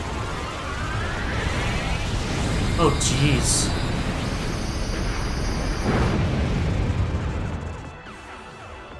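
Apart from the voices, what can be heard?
Dynamax Cannon attack explosion in Pokemon Shield video game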